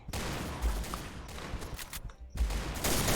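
Gunfire in the Point Blank shooter game, dense rapid automatic bursts with a short pause in the middle, loud and close, without talking.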